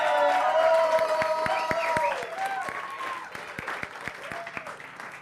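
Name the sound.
audience applause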